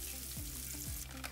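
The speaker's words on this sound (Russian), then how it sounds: "разогреваем в сковородке растительное масло и обжариваем репчатый лук" Chopped onion fries in vegetable oil in a pan, giving a soft, continuous sizzle that stays faint and steady beneath quiet background music.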